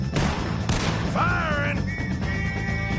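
Gunshots crack in Red Dead Redemption 2, a few sharp loud reports close together followed by ringing tonal sounds during a firefight.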